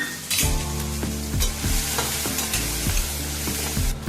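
Chopped chilies, onion and curry leaves sizzle and fry in a hot pan for a Gujarati batata poha breakfast, with loud continuous crackling broken by several clattering stirs of a spoon against the pan.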